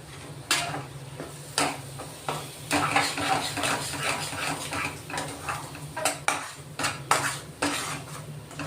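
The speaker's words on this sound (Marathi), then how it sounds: "तर हे मसाले आपण परतून घेणार आहेत." Home-made garam masala and turmeric are stirred and sautéed in a pan for a matki curry, with a spoon scraping and clanking against the metal in irregular knocks over a faint frying hiss.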